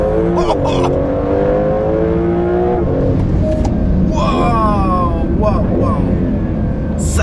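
A 2026 Porsche 911 Turbo S with two electric turbos launches hard from a standstill, its engine rising loud and close through rapid gear changes with clear breaks between them and no talk.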